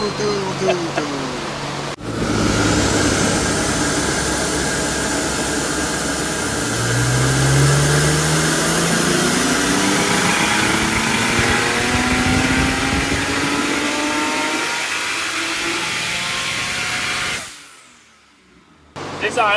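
A twin-turbo RB25/30-powered Nissan Z32 runs on a dyno, a loud, sustained roar with rising and falling pitch sweeps through a long pull, then cutting off sharply near the end.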